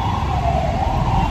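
A wailing siren rises and falls over a low traffic rumble, loud and sustained for a brief moment.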